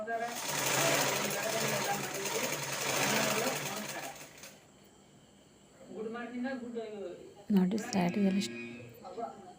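A sewing machine side-stitching cut fabric runs in a fast, steady close whir for about four seconds and then stops, after which a person talks.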